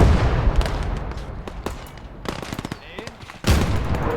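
A machine gun fires in a war video game, with rapid bursts of gunfire crackling in several separate volleys, ending in a heavy blast.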